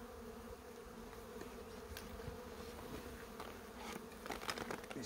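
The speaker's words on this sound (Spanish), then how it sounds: "la cantidad de abejas que tiene esta colmena" A dense swarm of honey bees drones continuously at a crowded beehive, a faint, steady buzzing with individual bees passing closer now and then, and no talking.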